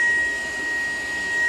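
A Shark PowerDetect vacuum cleaner runs in a kitchen, a steady close whooshing airflow roar with a thin high motor whine held throughout.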